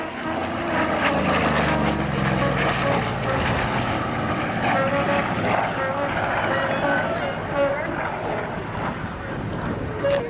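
A jet aircraft makes a fast, loud roaring pass at an airshow in Chatham, Ontario, with wind noise and a commentator talking over the sustained engine noise.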